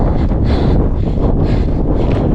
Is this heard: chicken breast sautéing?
no